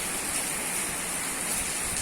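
Rain driven by strong wind strong enough to topple trees roars as a constant, dense broadband rush with no breaks, loud and enveloping throughout.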